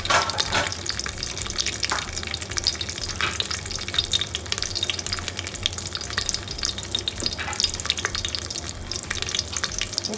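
Cumin, fenugreek and urad dal tempering frying in hot oil: a continuous, loud crackling sizzle with scattered pops and stirring scrapes throughout, close to the pan.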